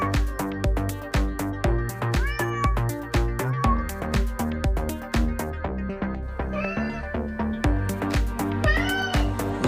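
A cat meows repeatedly in short, fairly loud cries that rise and fall in pitch, set over a steady tonal background with no talking.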